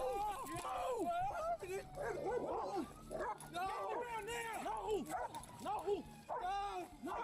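A police dog barks, yips and whimpers in quick, excited bursts close by, mixed with loud, tense shouting from officers during an arrest.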